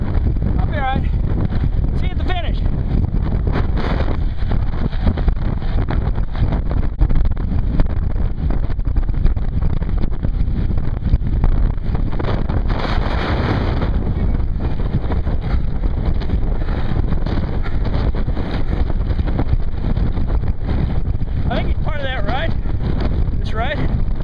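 Heavy wind buffeting a microphone while riding a bicycle into a headwind, a constant loud low rumble that fills the whole stretch, with a voice speaking faintly beneath it.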